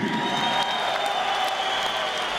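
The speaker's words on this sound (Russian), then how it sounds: "Аплодисменты!" Applause from the crowd at an M-1 Challenge mixed martial arts event, a steady wash of clapping in a large arena with a tonal hum beneath it.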